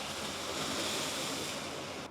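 Ocean waves surging into a limestone blowhole on the Grand Cayman shore, a loud, steady roar of rushing, spraying water filling the whole stretch without pause.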